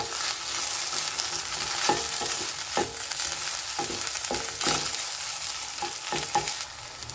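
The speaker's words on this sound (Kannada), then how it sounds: "ಇವಾಗ ಬೆಂಡೆಕಾಯಿ ಚೆನ್ನಾಗಿ ಫ್ರೈ ಆಗಿದೆ" Sliced okra fries in a pan for a traditional Havyaka-style dish, with a steady crackling sizzle and repeated scraping, clinking stirs of a spatula throughout; no one speaks.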